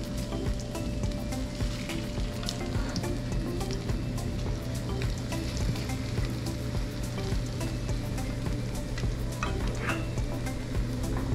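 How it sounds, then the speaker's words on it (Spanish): A Spanish omelette's egg mixture cooks in a frying pan, giving a steady, close sizzle and crackle with occasional sharper pops and faint stirring, and no talk. "Ya aquí a fuego lento la vamos a ir cocinando hasta que ya se nos haya cocido muy bien el huevito."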